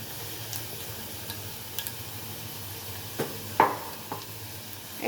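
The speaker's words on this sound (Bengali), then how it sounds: "এখন আমার কড়াইতে তেল গরম হয়ে গেছে, তো এখন একটু কালো জিরা দিয়ে দিচ্ছি" Nigella seeds hit hot oil in a wok, giving a faint, low sizzle with a few sharp ticks and one clearer clink partway through, all close by and without any talk.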